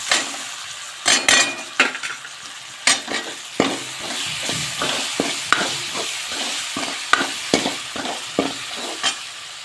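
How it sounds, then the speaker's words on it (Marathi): Masala with tomatoes is stirred in a hot pan, a spoon scraping and clinking against the metal in irregular strokes over a continuous close sizzle. "टमाटे टाकल्यानंतर आपण हा मसाला चांगला हलवून घ्यायचा आहे"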